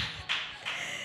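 A church youth program audience claps in a loud, dense burst that swells again partway through, with no talk over it.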